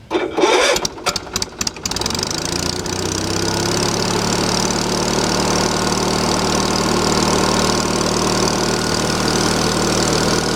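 A wood splitter engine cranks with a few choppy starter bursts, catches, and settles into a steady, loud idle that runs unbroken for the rest of the clip.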